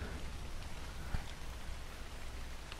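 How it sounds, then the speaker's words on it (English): Steady rain falls in the ARK: Survival Evolved game world, a dense, even patter of drops hitting surfaces that runs unbroken throughout, with one brief low thump partway through. "And it's raining."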